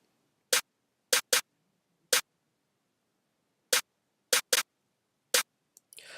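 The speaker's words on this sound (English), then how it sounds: "Then I have this other snare playing through right here" A second snare layer in a heavy future bass track strikes eight sharp, dry hits in an uneven pattern with silence between them, ending in a brief noisy swell.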